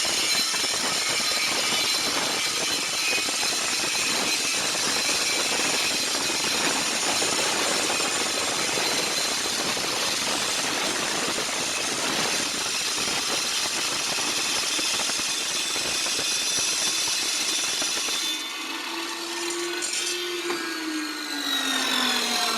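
A saw cuts steadily through a metal wireway gutter in an off-grid power room rebuild, giving a loud continuous grinding whine for about eighteen seconds before it stops and the motor spins down.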